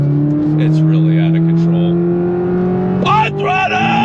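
A 2026 Corvette C8 ZR1 under throttle, its loud engine tone climbing steadily as it pulls hard, heard up close from inside, then a sharp shift-like break and surging roar near the end.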